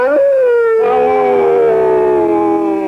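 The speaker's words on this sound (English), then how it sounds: "This is a two-mouth Martian moon howler." A cartoon Martian moon howler with two mouths lets out a loud, sustained, wavering howl that starts with a rising yelp, then settles into a long, slowly falling doglike wail.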